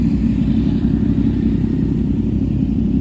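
A group of big bike motorcycles idling together before setting off on a ride, a steady low engine rumble close by with no pauses.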